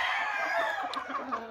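Gamecock roosters and hens cluck and crow close by, a loud, continuous barnyard chorus of overlapping calls with no one speaking.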